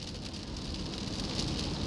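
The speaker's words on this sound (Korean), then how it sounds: "비는 하루 종일 내릴 기세다." Steady rain pattering on a surface, a dense even hiss with a low rumble beneath, continuous and moderately close.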